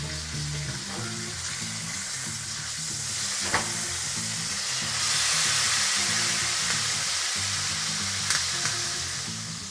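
A New York strip steak sizzles loudly and steadily in a hot pan, a dense continuous frying hiss with a few small pops and swells, no talking.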